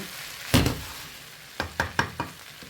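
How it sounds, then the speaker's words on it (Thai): Onions stir-fried in a pan until golden, with a low sizzle under a heavy knock early on and then a quick run of spatula scrapes and taps against the pan, close and fairly loud with no talking. "ใส่หัวหอมเยอะยิ่งอร่อย เราจะผัดจนเหลืองจนหอมเหลือง"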